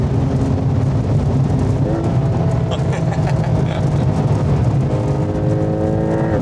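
A Porsche Turbo downshifting at over 300 km/h on the Autobahn, heard from inside: a loud steady engine roar with rising and falling tones as gears drop, under persistent wind and road noise, with a voice talking briefly.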